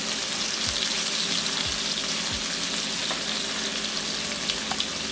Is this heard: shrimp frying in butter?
yes